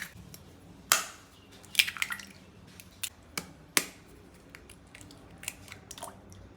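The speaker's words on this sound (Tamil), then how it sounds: "இப்போ 3 முட்டையுமே உடச்சி மிளகுத்தூளும் உப்பும் போட்டு கலந்து வச்சுக்கலாம்" Three eggs cracked and beaten with ground pepper and salt, giving a few sharp cracking taps followed by scattered wet clicks and light squishy mixing sounds, close and moderately quiet.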